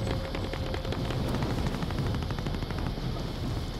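Gunfire aimed at the player in a video game, a dense, steady barrage of rapid shots carrying loudly throughout over a rumbling background.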